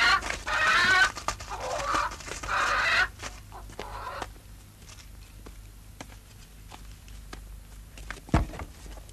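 Chickens cluck loudly in a burst over the first few seconds, then fall to faint background shuffling with a single sharp knock near the end.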